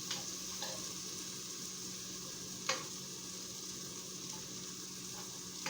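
Chicken pieces for a Swiss carbonara chicken mushroom dish sizzle steadily as they brown in a pan, a soft continuous crackle with a few faint clicks of the utensil, no talking.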